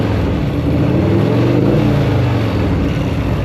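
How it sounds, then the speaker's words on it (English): Close, loud engine roar from a 1984 Harley-Davidson FLT Tour Glide motorcycle revving while it warms up, a continuous throaty drone that swells and eases over a few seconds with no talking. "Got her revving pretty good."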